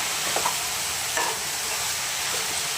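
Ridge gourd and moong dal curry sizzles in a pan, a steady bright frying hiss with a few soft scrapes of stirring, close and continuous, without any talking.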